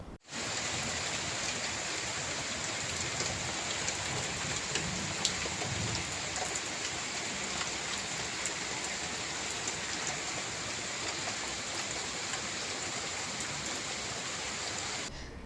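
Evening rain showers falling near Nellore, a steady, continuous hiss of rain on surfaces that holds at an even loudness throughout with no voices.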